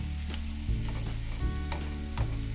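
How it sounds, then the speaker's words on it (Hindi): Chopped onions sizzle steadily in a hot pan while being cooked for Indori poha, with a spatula scraping and stirring through them in a few regular strokes over the continuous frying hiss. "अब आप देख सकते हैं कि ये प्याज है वो भून रहा है"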